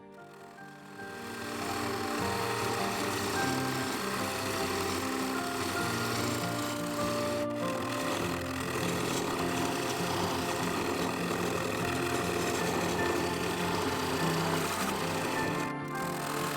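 A wood lathe spins steadily while a skew chisel refines the rim of a bowl, a continuous droning hum with tonal whine and faint scraping that starts up in the first second and runs throughout, with no voices.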